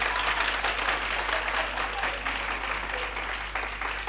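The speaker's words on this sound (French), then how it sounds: "est-ce qu'on peut applaudir très très fort pour cette première manche" An audience at a French high school trophy contest applauds loudly after the first round, a dense, continuous wash of clapping that holds steady for the full four seconds with little talk.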